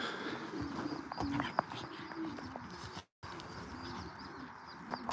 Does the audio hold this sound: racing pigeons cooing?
yes